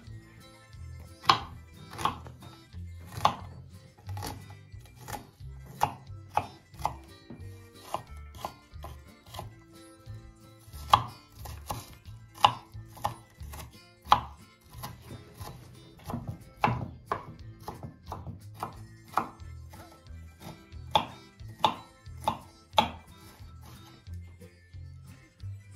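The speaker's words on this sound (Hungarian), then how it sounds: "Most összeaprítottam így szépen így kockákra ezt a vörös hagymát." Red onion being chopped into cubes with a knife on a cutting board, a long run of sharp, irregular close-up knife strikes with brief pauses between bursts.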